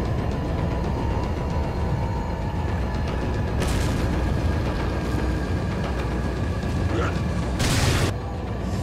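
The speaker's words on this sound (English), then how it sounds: "Right here is a good time for a grenade, in my opinion." A grenade goes off in Resident Evil 4 amid dense game noise, with sharp blasts bursting out near the middle and again near the end over a constant loud rumble.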